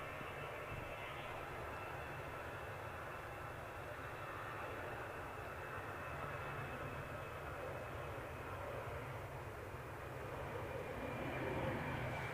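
A plane roars steadily at Manchester Airport, a continuous broad engine rumble and rush that holds level throughout and swells slightly near the end, with no voices.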